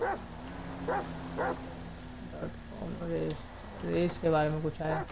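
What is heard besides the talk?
dog barking in a car in video game GTA V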